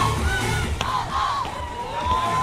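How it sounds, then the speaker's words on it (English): A Thai crowd at a beach teqball tour final on Koh Samui raises its voices in a steady mass of shouts and cheers, with a few higher yells rising above the continuous din. "Thai crowd raising their voices."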